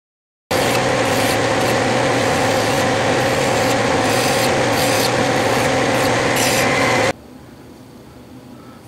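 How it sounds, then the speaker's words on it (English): A lathe facing a flange nut screwed onto a 3/8 bolt held in the chuck jaws, a steady scraping, rasping cut with a machine hum that runs evenly for several seconds and then drops to a quieter idle. "the nut is screwed onto a 3/8 bolt that is held in the chuck jaws, and I'll face it the length"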